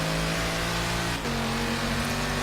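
A sports car engine in the video game Forza Horizon 3 hums steadily at a high pitch, a brief gear shift dropping the tone midway before it settles into a constant drone.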